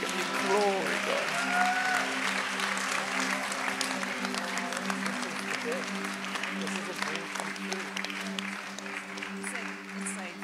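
A conference audience claps continuously in a dense, steady patter of applause, with a voice speaking over it and a sustained musical tone underneath.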